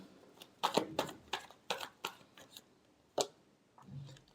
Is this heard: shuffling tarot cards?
yes